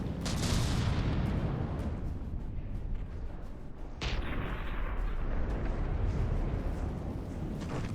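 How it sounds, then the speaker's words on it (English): Missile and cannon fire in the naval battle game From the Depths, with super battleships exchanging shots: a dense, continuous rumble of booms and blasts, loud and sustained, with a sharp new impact about halfway through. "Now we have more missiles coming in here."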